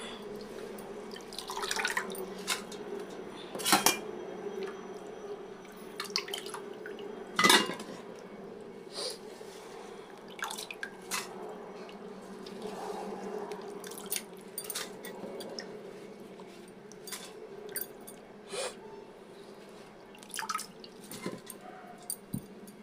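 Curry leaves rinsed in water in a kitchen vessel: steady sloshing and trickling with scattered drips and light clinks of the pot, close and fairly quiet, no talk.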